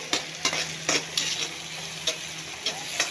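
Pork and beans sauté in a pan, with a steady frying sizzle broken by repeated sharp scraping strokes of a spatula stirring against the pan, close and fairly quiet.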